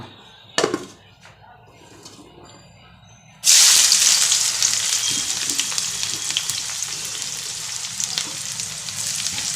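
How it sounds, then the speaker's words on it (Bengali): Onions dropped into a kadai with whole garam masala, dried chillies and bay leaf, bursting into a loud sudden sizzle after a few light clinks, then a steady frying hiss with stirring scrapes, close by. "এবার পেঁয়াজটাকে আমি বাদামি কালার করে ভেজে নেব"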